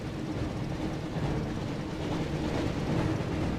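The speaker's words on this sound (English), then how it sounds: "Looks like we found the train, Ron." The Hogwarts Express rumbles along steadily in a Harry Potter Chamber of Secrets video game, a loud continuous roar of rolling train noise with no breaks.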